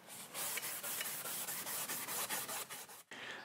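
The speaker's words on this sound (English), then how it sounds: "I'm going to use 320 sandpaper on an orbital sander" An orbital sander with 320-grit sandpaper works a metal dustpan in steady, rhythmic strokes, giving close, raspy rubbing pulses that stop briefly near the end.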